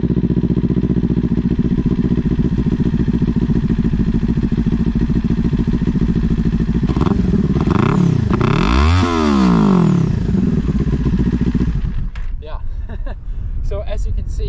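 A Kawasaki Ninja 400 motorcycle with a slip-on exhaust idles with a steady throb, then revs up sharply twice, rising and falling in pitch, loud and close, before settling back down.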